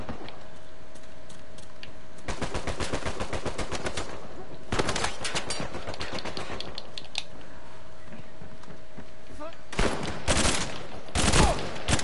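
Gunfire in an Uncharted 4 multiplayer match: repeated bursts of rapid automatic shots, with short gaps between salvos and a steady tone underneath.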